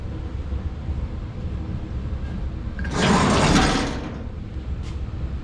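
A wooden or metal drawer beneath a workshop drill press slides open with a single rough, scraping rumble lasting about a second, close by in an otherwise quiet room.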